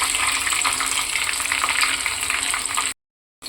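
Garlic fries in oil for a tempering, giving a steady, fairly loud crackling sizzle with no talk, cutting out abruptly near the end.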